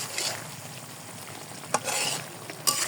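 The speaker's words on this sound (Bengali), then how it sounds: "এখন এই পর্যায়ে আমি জিরা ফাঁকি দেব 1 চা চামচ, দিয়ে আমি নেড়ে ফেলে" Cumin seeds fry in a pan for a fish curry with tomato paste, giving a steady close sizzle, while a spoon stirs through them with a few sharp scraping knocks.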